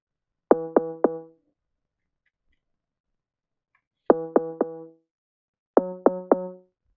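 An alternate 808 bass sound programmed in an FL Studio beat plays alone in three loud groups of three quick booming hits, separated by silences.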